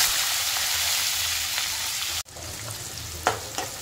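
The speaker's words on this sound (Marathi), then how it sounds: "व्यवस्थित मोठ्या गॅसवरती परतून घ्यायचं।" Chopped onion sizzles steadily in hot oil over a high gas flame, sautéed in a tempering with mustard seeds, asafoetida and curry leaves; a brief stir interrupts the constant crackling hiss.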